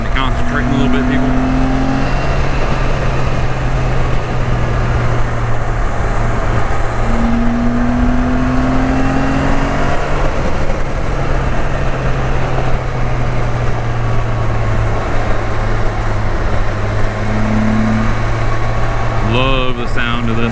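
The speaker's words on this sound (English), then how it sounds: "Love the sound of this motor." A loud car motor runs steadily with a strong screaming intake roar, the air rush dominant over a very quiet exhaust; engine tones rise and fall a few times while people talk over it.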